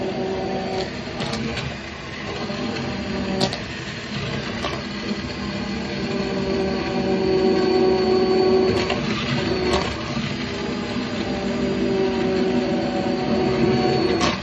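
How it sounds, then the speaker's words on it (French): An immersion blender whirring steadily through a vegetable soup, a continuous motorized hum with a rising tone and faint rattling, close and fairly loud, with no talking. "On va tout passer au mixeur plongeant maintenant."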